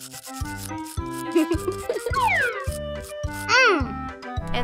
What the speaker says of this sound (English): And this is how you brush your own teeth, Lucy.